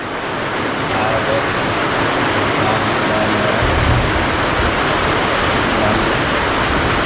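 Heavy rain pours down steadily on farmland, a loud, continuous broadband hiss with no breaks, close and enveloping throughout.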